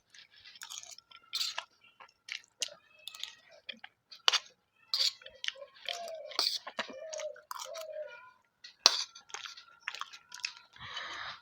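Close, wet chewing and crunchy bites of hand-mixed rice with yellow dal and fried fish, coming in irregular bursts with short pauses, some soft squishy mouth sounds, no talking.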